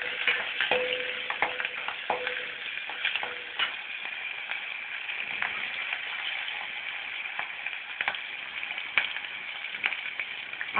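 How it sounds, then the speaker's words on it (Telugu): Green chillies, with broken dried red chillies, sizzle in oil in a pan for mirchi chutney. A steady, close frying hiss runs throughout, with scattered clicks and scrapes from stirring. "అది వేసి వేయించాలి."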